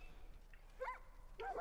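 A dog in the video game Far Cry: New Dawn gives two short yips or whimpers about half a second apart over a low, steady game background.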